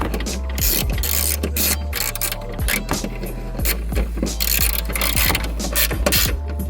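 A ratchet tightening a 10 mm fastener on a car's trunk light clicks in quick repeated bursts, near and crisp, with short pauses between strokes over a low steady hum.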